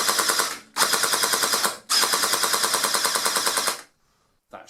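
An airsoft M249 fed from a box magazine fires BBs in three rapid full-auto bursts, each a steady stream of evenly spaced mechanical cracks, close and loud, ending in silence.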